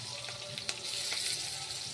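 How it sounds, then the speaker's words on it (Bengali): Fish pieces frying in hot oil in a home kitchen, a steady close sizzle with faint clinks, no talk. "তেলের মধ্যে মাছ দিয়ে দিলাম, সামান্য একটু ভেজে নেব"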